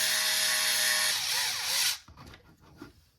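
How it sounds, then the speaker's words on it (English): A power tool whirs steadily while bolting parts onto a Vanquish Phoenix RC car, close and loud for about two seconds, then cuts off and leaves faint clicks and handling noises. "So I'm gonna go ahead and bolt everything up and let's see how it works."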